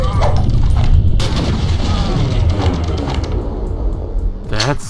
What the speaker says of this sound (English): That's sad, that explosion though.